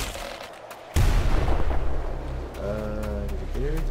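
Rapid machine gun fire in the video game Nuclear Throne, a loud, dense burst of shots starting abruptly and sustained over a low rumble with game sound effects.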